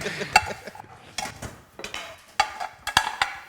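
Metallic clanks and clinks of a pan being handled, with scattered light knocks at irregular intervals, fairly close.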